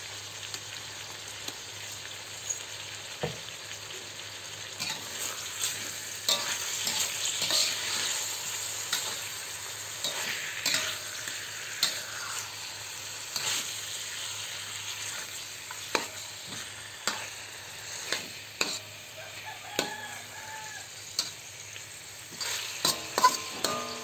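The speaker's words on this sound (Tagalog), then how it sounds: "Lagyan na natin ng durog na paminta. At haluin natin." Chicken adobo with crushed black pepper stirred in a pan, a steady close sizzle broken by repeated scraping and tapping strokes of the spoon throughout; no voices.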